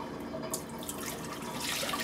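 Water from a tap splashes and trickles into a pot in a kitchen, a soft, continuous rushing sound that holds steady for about two seconds.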